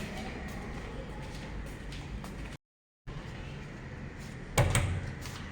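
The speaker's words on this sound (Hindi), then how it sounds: "अभी दरवाज़ा खोल दिया" A door opening at a friend's first-floor flat in an apartment building: a single clunk near the end, over a steady background hum with a brief dropout in the middle.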